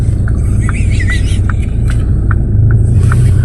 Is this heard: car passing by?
yes